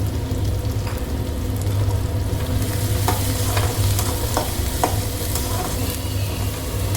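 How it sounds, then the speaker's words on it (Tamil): Onions sautéing in oil in a kadai, with chili and curry leaves, sizzle steadily close up, a continuous frying hiss broken by a few stirring scrapes and clicks, with no talking. "வெங்காயம் நல்லா வதக்கிக்கோங்க."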